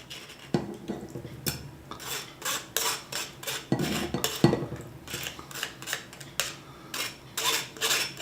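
Fermented hot sauce being scooped back into its jar: repeated close scraping and clinking of a utensil against the jar, in a steady uneven rhythm, with no speech.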